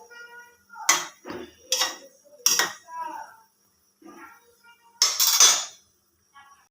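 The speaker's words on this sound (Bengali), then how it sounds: "এই তো আমি শুটকি ঝোলের মধ্যে সবজিগুলো ভালো করে নেড়ে চেড়ে আবার কিছুক্ষণ হওয়ার জন্য এটাকে সুযোগ দিয়ে নিব" Vegetables being stirred through a dried fish curry in a metal pot, giving several sharp clanks and scrapes of a spoon against the pot in irregular bursts, fairly close and alone.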